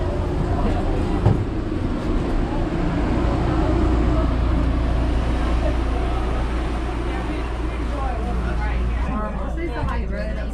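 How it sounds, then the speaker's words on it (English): Steady low rumble of a 1949 passenger train car getting underway, with a continuous mechanical drone and a crowd of voices murmuring in the background throughout. "The train starts up."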